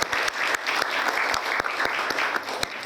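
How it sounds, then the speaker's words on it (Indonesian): A church congregation applauding, dense rapid clapping that holds steady and loud for the whole short stretch, with no talk over it. "Kalau percaya, tepuk tangan buat Tuhan Yesus"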